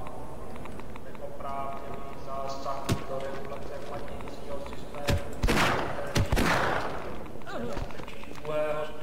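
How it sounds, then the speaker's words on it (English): Enemy gunfire in the Half-Life mod Force of Evil, several sharp scattered shots, one loud burst in the middle, over constant game ambience and someone talking. "Why did he start shooting me?"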